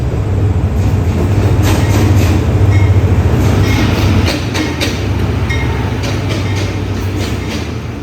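Thai express train No. 86 with older air-conditioned second-class sleeper cars rumbles loudly past, a continuous heavy roar with rhythmic clacking of wheels on the rails.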